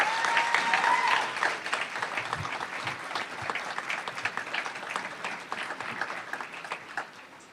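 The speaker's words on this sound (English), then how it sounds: "let's give a big round of applause to acknowledge our friends and family in the audience this evening" Sustained audience applause at a spring awards ceremony for senior honorees, dense clapping from a large crowd filling the room, gradually tapering toward the end.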